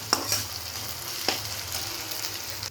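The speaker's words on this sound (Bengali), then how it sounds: "আমি এটাকে একটু ভেজে নেব।" Onion with ginger-garlic paste frying in a pan, a steady close sizzle with a few sharp spatula scrapes and stirs, no talking.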